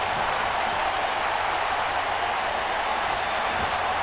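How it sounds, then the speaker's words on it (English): Arena crowd ovation for Lita at a WWE 2K wrestling match in Chicago: dense, steady applause and cheering that holds at an even, loud level throughout. "No doubt Lita's loving the ovation from the crowd here in Chicago."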